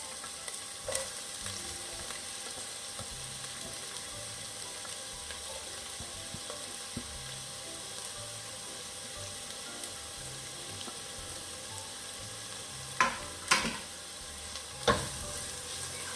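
Sliced onions sautéing and being stirred in a pan, a steady low sizzle throughout with a few sharper scraping clicks of the spoon near the end.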